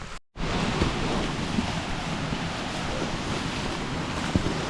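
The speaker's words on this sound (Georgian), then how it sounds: "მდინარის ხმაც ისმის." A river rushes through dense forest in the Racha region of Georgia, heard as a steady, close, full-bodied wash of flowing water with a wind-like hiss. A brief dropout interrupts the start, and no one speaks.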